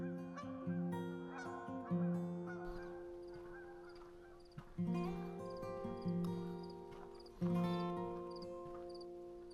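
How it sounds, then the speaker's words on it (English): A small group of geese in Algonquin Park honk repeatedly in overlapping bursts, fairly faint and distant, with several louder clusters of calls spread across the stretch. "Other than a small group of geese, I wasn't really coming across anything too exciting."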